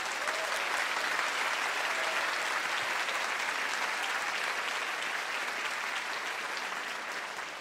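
An audience at a Krush welterweight kickboxing title match gives sustained applause for the losing fighter and his team, a dense, even roar of clapping that fades slightly toward the end.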